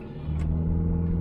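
A car engine running rough on a cold morning, a steady low rumble with a faint uneven pulse, close and alone with no talk.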